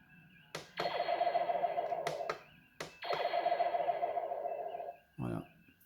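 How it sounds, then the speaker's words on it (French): Toy spaceship electronic missile-fire effect: two long buzzing, warbling synthetic bursts with sharp clicks from button presses, loud and close, ending with a short thunk. "C'est quand il tire un missile en fait."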